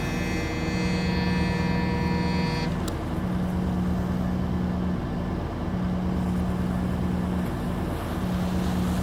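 Loud, steady engine drone of a ship given more throttle in a ship simulator game, a continuous low hum with a rhythmic pulsing beat and a high tone cutting out early, no talking.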